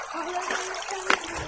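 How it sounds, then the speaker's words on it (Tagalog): Water trickles and splashes over rocks near the Apya Dam in Antipolo, Rizal, a faint close babble with a brief brighter splash, under a thin tonal hum. "Tubig."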